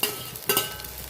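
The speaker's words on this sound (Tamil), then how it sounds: "இதுலேயே இந்த வெங்காயத்தை கூட போட்டு வதக்கிங்க" Onions sautéed in a pan along with large prawn heads, giving a steady sizzle with a scraping stir in the middle, close and moderately loud.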